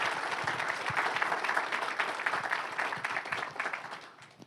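Sustained applause from the audience at a Perkiomen Valley School District board business meeting, a dense, even wash of clapping that tapers off toward the end, with no talking over it.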